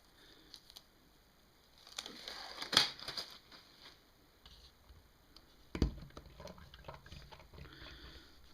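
A hydraulic lash adjuster from a 1985 Kawasaki VN750 engine is pumped while submerged in kerosene, giving faint, scattered bubbling and gurgling with a couple of sharper clicks and splashes, close by and quiet.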